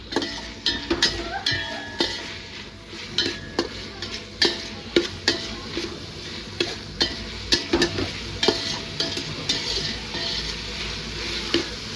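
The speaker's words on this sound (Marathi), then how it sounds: "कांदा मस्तपैकी फ्राय झालेला आहे" Onion fries in a pan for chhole, a soft continuous sizzle under regular scraping and knocking of a spoon stirring against the pan, close and moderately quiet.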